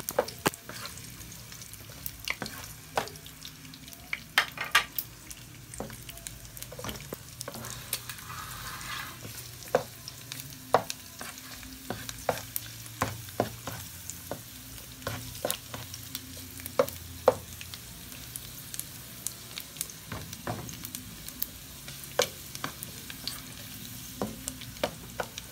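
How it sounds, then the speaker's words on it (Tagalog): Garlic, then onion, sizzles and fries in a pot for chicken noodle soup, a steady low crackle punctuated by frequent clinks and scrapes of a stirring utensil, with no talking. "Unahin ulit natin yung bawang. Papulain lang natin yung bawang ng konti, tapos isunod natin yung"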